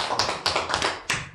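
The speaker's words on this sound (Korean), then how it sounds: "박수 한번 주세요" A small audience at a business presentation gives a round of applause. The claps come as several close, loud, uneven bursts over about a second and a half.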